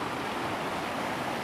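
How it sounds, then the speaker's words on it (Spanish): A flowing river gives a steady, dense rushing wash of water, constant and fairly loud throughout with no voices. "Pero ahí está este río."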